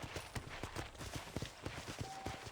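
Horse hooves clip-clop in an even walking rhythm in the Red Dead Redemption video game, close and steady for a couple of seconds with no talking over them.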